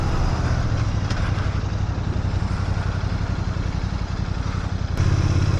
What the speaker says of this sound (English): Brand new Royal Enfield.